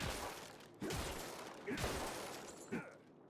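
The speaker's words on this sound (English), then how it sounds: "it's a little light for a shotgun sound" A shotgun fires three times in the Mouse: P.I. for Hire video game, each blast a short, fairly light crack that fades quickly, spaced about a second apart with no talk over them.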